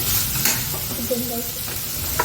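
Tomatoes sizzling and frying in oil in a pan, a steady close hiss with faint stirring scrapes and brief clicks, no voice heard.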